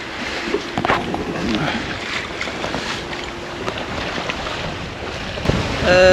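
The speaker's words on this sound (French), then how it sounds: "On a un vent à 13 nœuds." Wind rushing over a sailboat at sea on a calm day with a 13-knot breeze, as the boat sails on a broad reach near Italy and Malta: steady, close buffeting and whooshing with faint water wash, continuous throughout.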